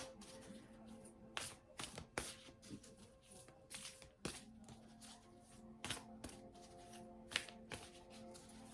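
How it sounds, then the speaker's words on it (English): Cards from a tarot deck being handled and one pulled out, faint scattered flicks and slides of card stock near the mic with quiet pauses between. "So I'll pull one more card for you. Pull it from here and see what we get in this deck."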